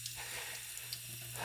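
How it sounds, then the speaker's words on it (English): A kitchen sink tap runs lightly while a fountain pen is flushed, giving a steady, faint water hiss that continues throughout with a low hum beneath. "So with the sink running very lightly,"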